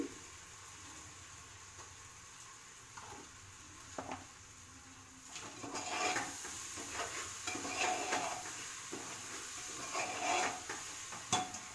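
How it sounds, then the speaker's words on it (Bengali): Rice, lentils and vegetables for khichuri are stirred and sautéed in a pot, soft scraping at first, then a louder sizzle with irregular utensil scrapes against the pan. "এই যে চাল সবজি ডাল দিয়ে কষা হচ্ছে"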